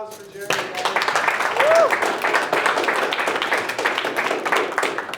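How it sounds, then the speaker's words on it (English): Audience applause for Jerry at a small informal gathering, a steady wash of clapping across the whole span with a voice talking over it. "Let's give a round of applause for Jerry."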